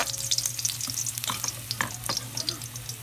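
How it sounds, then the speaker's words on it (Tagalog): Garlic and onion sizzle and crackle steadily in a preheated pan, a close, continuous frying hiss with stirring scrapes, without talk. "So ito na, preheat natin yung kawali. Tantaradan. Then we put the bawang."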